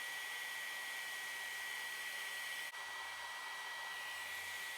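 A handheld heat tool blows hot air over craft paper with a steady, even whir that holds at a constant level, dips briefly once, then carries on.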